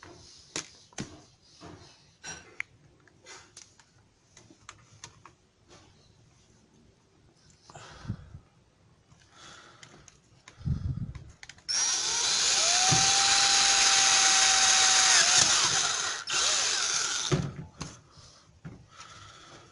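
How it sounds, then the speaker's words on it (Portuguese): Power drill boring a larger hole to pass a thin cable for a homemade amplified WiFi antenna, preceded by handling clatter, then a loud sustained high whine for about four seconds close by before stopping. "Vou furá-la, fazer um outro furo maior para passar o cabinho agora."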